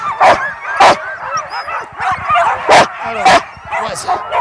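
A dog yips and barks in several sharp bursts, some whimpering between them, with people talking alongside outdoors.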